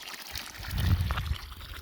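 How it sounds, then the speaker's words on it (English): Spring water flows out of the ground with a soft, close trickle and a brief stronger gurgle in the middle. "It's actually water coming out of the ground."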